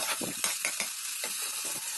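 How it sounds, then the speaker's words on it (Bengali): Ginger paste being stirred while it fries in a pan, quiet sizzling broken by a series of soft scraping strokes in an uneven rhythm. "যতক্ষণ না আদা বাটাটা ভালো করে কষানো হয় ততক্ষণ আমি এটা নাড়াচাড়া করব।"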